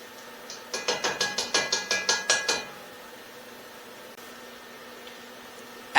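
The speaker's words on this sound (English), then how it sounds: "We're then going to go in with our garlic and just grate it into there." Garlic is grated into a pot while cooking a Moroccan chicken stew, giving about a dozen quick, evenly spaced rasping strokes that stop abruptly, leaving faint kitchen background.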